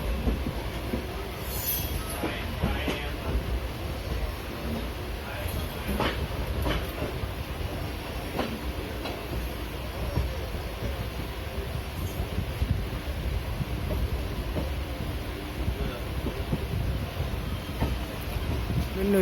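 Interior of a moving, sparsely occupied passenger train hauled by a WAP-7 electric locomotive, with continuous rumbling, rhythmic clacking of wheels over rail joints and occasional squeals, steady throughout.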